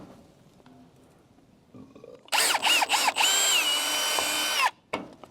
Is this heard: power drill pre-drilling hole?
yes